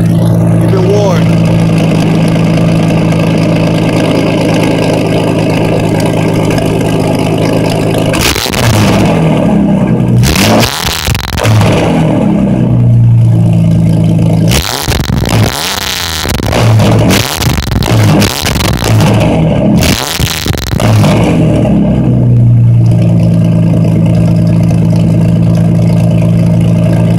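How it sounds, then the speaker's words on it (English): A BMW Supra engine idles with a low rumble through its exhaust, then revs loudly several times in bursts before settling back to idle, close by. "let you hear my exhaust for a minute. This might get a little loud."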